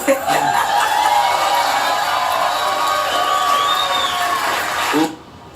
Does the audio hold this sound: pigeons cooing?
no